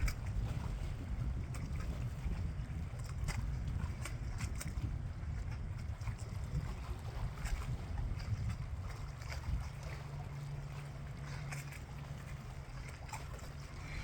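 Waves lap steadily on a lake shore right beside the listener, a continuous low rushing wash with soft splashes and some wind buffeting, fairly quiet and with no voices.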